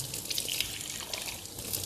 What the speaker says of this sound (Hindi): अब पानी इस तरीके से हमें डालना है।